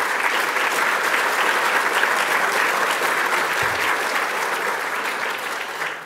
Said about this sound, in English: How about another huge round of applause for the immensely talented James Doig